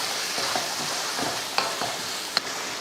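Tomato masala paste with ground spice paste and salt sautés in a pan, a steady soft sizzle with a few faint spoon scrapes and taps, no voices.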